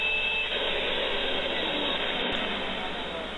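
Vacuum cleaner drawing air out of a space saver storage bag, a loud, steady whooshing hum that runs continuously with a brief dropout, no voices over it.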